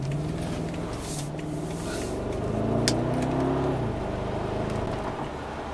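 A BMW 6-Series engine accelerates through a corner under a feathered throttle, giving a steady, close engine drone whose pitch climbs and dips smoothly over several seconds, with no talking.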